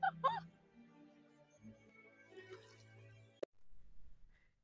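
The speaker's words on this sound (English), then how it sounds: "There's some ducks down there too." Ducks at Perth Zoo give a few quick nasal honking calls close by at the start, then fade to low, faint murmuring with a single sharp click near the end.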